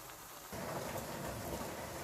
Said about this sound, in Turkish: Dışarıda inanılmaz bir yağmur var.